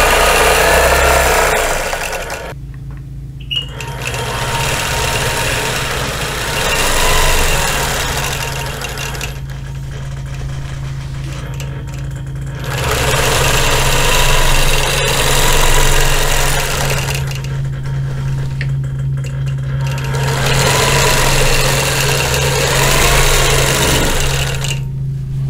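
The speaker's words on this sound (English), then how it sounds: "I'm gonna stitch in the ditch to the next side, to the next block" A sewing machine stitches in the ditch across a Flying Geese quilt, running in long steady loud bursts with short pauses between them and a constant low motor hum.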